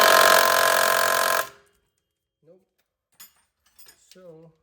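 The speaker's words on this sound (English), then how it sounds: "Let me swap my socket. See if this will break loose." A mechanic swaps a socket on a ratchet, a loud buzzing rattle of the tool running for about a second and a half before it stops. Speech and faint metallic clicks follow.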